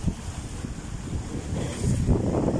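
Wind buffets a microphone at a seaside fishing spot, a loud continuous low rumble with gusts swelling toward the end, no voices.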